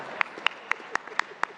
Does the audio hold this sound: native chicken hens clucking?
no